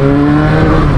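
Jaguar XJ6 engine running hot with the temperature warning light on, revved briefly in a single loud, close burst of throaty engine tone with no speech.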